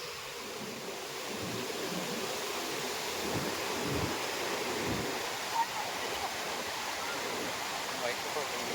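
Village river in Senapati Kapshi, its water rushing in a steady, loud broadband roar like a stream or small waterfall, with a person talking faintly beneath it.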